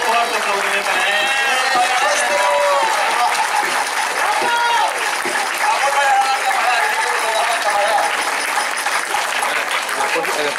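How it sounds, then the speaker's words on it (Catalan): Dense, steady crowd applause fills a village festival in Alcalà de Xivert, loud and close throughout, with voices and tonal sounds running under the clapping. "un fort aplaudiment, un fort aplaudiment per ell"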